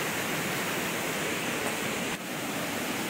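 A river in the Konkan region runs high during the monsoon, producing a loud, close, unbroken rushing roar of flowing water.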